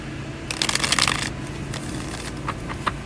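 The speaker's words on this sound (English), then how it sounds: "One more shuffle." A deck of tarot-style cards is riffle-shuffled close up, giving a quick fluttering burst of snapping cards, followed by a few softer taps and shuffles as the deck settles.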